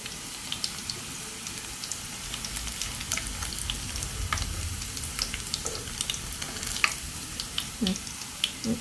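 Oyster mushroom pieces deep-fry in hot oil with a steady, dense sizzle and scattered crackling pops, close by and continuous, with no talking.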